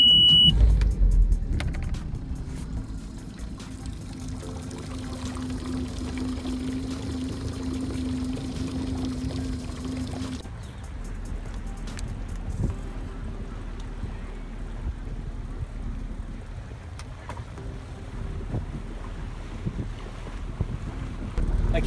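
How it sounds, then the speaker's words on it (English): A Bayliner 180 boat with a 115 HP outboard engine running on the water at a marina, a steady low engine hum under wind noise that shifts after a short while. "Okay, let's start the engine."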